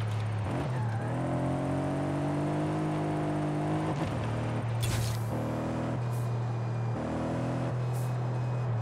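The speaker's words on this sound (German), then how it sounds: "Man hört beim X5 ganz schön den Turbo-Zisch arbeiten." A BMW X5's turbocharged engine in the video game Forza Horizon 5 drones at a steady pitch, rising and dipping with the throttle, with airy turbo hissing and brief whooshes as it shifts.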